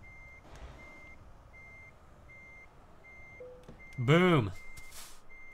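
Reversing beeps from a truck in Euro Truck Simulator 2, a steady evenly spaced electronic beep repeating while the truck backs up slowly, with a voice briefly cutting in near the end.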